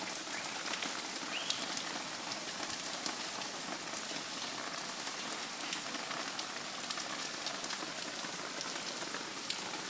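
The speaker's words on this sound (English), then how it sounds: "rainy season in Florida." Steady rain pattering on surfaces during the Florida rainy season, a dense, even hiss of drops with occasional louder splashes and no voices.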